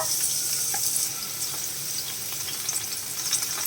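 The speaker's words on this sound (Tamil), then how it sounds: "நல்லா ஹை ஃப்ளேம்ல வச்சு பொன்னிறமா வதக்கி எடுத்துட்டு வந்துக்கலாம்" Finely chopped large onions sautéing in oil over a high flame, a continuous close, crackling sizzle with light stirring scrapes and no talk.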